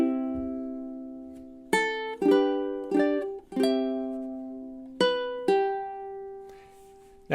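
Measures seven and eight of a song played on solo ukulele, with a steady series of about eight plucked notes and chords, each ringing and fading in a slow, even rhythm.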